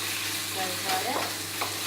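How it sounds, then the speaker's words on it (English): Meat sizzles in a pan with garlic and ginger for Chinese fried noodles, a steady loud hiss of frying with a few scraping stir strokes across the pan, and no talking. "Stir fry it."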